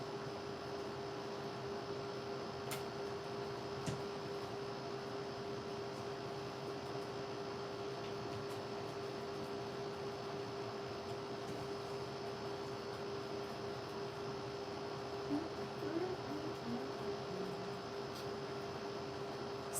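An air conditioner runs steadily in a room, a constant close hum and broadband hiss with a faint tonal whine, unchanging throughout with no talking.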